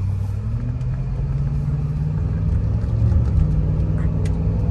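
A large, heavy Cadillac DTS sedan over ten years old gives off a steady low engine rumble that swells slightly as the car accelerates. It is heard from inside the car with no talk.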